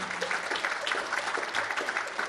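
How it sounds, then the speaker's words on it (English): Steady applause from an audience, dense clapping filling the whole moment without a break. "Give him another round of applause, man."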